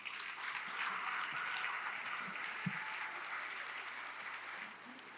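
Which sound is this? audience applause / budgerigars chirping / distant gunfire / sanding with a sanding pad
audience applause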